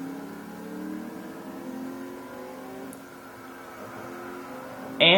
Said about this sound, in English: Makes a burly V8 noise.